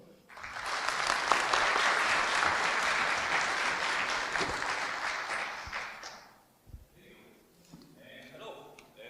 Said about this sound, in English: So please, I want to hear your applause for him.